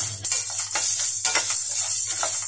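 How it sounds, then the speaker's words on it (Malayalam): Urad dal roasting dry in a pan for Kerala idli powder, a continuous close hiss with soft scraping stir strokes and a low steady hum underneath. "ഊന്ന് വറുക്കാം. ബ്രൗൺ കളർ ആകുന്ന വരെ വറുക്കണം."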